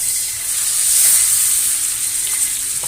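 A butter-basted rib-eye steak sizzles steadily in a hot cast iron pan just after being flipped, a close, loud, continuous frying hiss with no talking.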